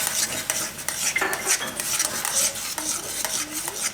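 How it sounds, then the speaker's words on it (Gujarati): A metal spoon stirs vegetables in a pan for a sizzler dish that has green and red chilli sauce in it, with repeated scraping and clinking strokes over a soft sizzle, close and steady, with no voices. "શાકભાજીમાં એકવાર ચમચો ફેરવી લઈ"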